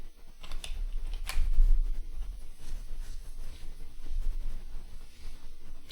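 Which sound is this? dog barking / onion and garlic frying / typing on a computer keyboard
typing on a computer keyboard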